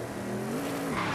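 A car engine revs up toward 4,000 rpm in the racing game Forza Horizon 5, a steady rising drone held close and loud throughout.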